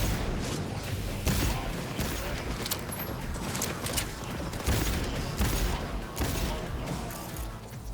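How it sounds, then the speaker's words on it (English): Dense, sustained gunfire in Cyberpunk 2077: rapid overlapping shots and mechanical clatter pound continuously for the whole stretch, loud and close, with sharper bursts scattered throughout. "Open fire!"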